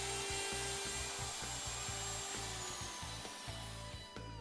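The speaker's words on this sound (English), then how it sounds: "Routing is then done straight in and out of each template opening" A router cuts grooves through a wood board and into a beam, a dense whining buzz with rough, rhythmic chattering pulses underneath, close and continuous.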